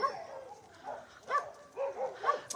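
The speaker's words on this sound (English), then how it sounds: "Dogs everywhere." Several dogs at a home with many dogs give short yips, whimpers and light barks in scattered bursts, moderately close, with no clear talking.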